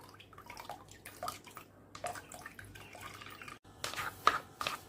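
Watermelon juice being strained, with faint irregular drips and small splashes of liquid over a quiet background, occasional louder trickles near the end.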